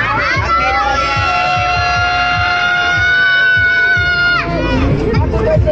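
A large crowd at a year-end neighborhood party shouts and cheers together in a loud sustained roar, with rhythmic thumping beneath the voices.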